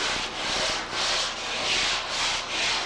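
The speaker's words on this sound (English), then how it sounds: "I'm gonna start sanding here." Rhythmic back-and-forth strokes of a Curvecaster sanding board rasp across a guide-coated surface, about five even passes, close and steady with no talking.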